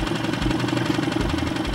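An outboard motor on a loaded PVC boat runs steadily, a loud, close, rapidly pulsing engine drone with a constant throbbing rhythm.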